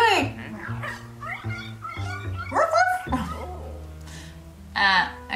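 A dog in the video game Luigi's Mansion 3 barks, yips and whimpers in several short bursts with game music, and a player talks over it.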